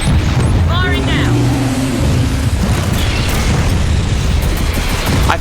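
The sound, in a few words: missile firing and explosion in Gears of War 4 video game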